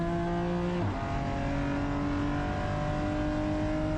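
A GT4 race car sweeping uphill through a high-speed corner at The Bend circuit, its engine holding a steady, dense drone that drops in pitch once early on and then stays constant, loud and close, with no speech.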